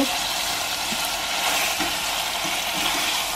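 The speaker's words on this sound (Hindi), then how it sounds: "इसको हमें बस थोड़ा सा फ्राई करना है" Chicken sizzles and fries with garlic in a pan, giving a steady close crackle with a few soft stirring knocks and no talk.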